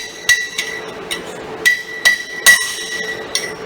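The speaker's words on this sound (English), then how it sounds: "Use a hammer, make sure you're wearing safety glasses, and begin to try and drive that race out of there." Sharp metallic hammer strikes ring out one after another at an uneven pace, about eight blows, each with a bright clanging ring, as a bearing race is driven out of a wheel hub.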